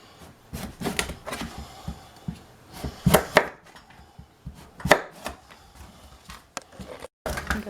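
A knife chops peeled acorn squash on a cutting board, making sharp, irregular thuds and knocks spaced a second or so apart at close range, with quiet handling noise between the cuts.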